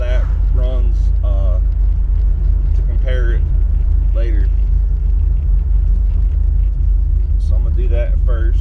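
Car with a swapped LT1 engine run by an LS 411 PCM, cruising on the road under light throttle, a steady loud low engine rumble throughout while someone talks over it.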